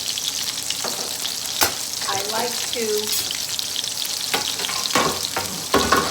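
Steady oily sizzling of meatballs frying in a 9-inch frying pan, close and continuous, with occasional pops and a person speaking briefly over it.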